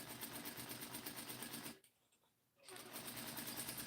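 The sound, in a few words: sewing machine stitching fabric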